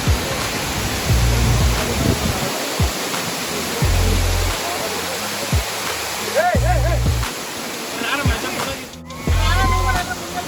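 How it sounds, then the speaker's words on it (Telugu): Pittalaborra Tarabu waterfall near Vizag roars as a steady, loud broadband rush through the whole clip, while people talk intermittently over the falling water. "చాలా బాగుంది అసలు వాటర్ ఫాల్."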